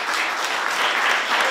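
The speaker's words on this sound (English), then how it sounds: "Y'all give him a big round of applause." Audience applause for a new speaker at a governor's press conference: a thick, steady roar of clapping from a room full of people, loud and continuous with no gaps.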